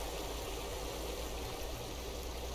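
Flowing river in the survival game This Land Is My Land, a continuous soft rushing and trickling stream of water at moderate distance, steady with no voices.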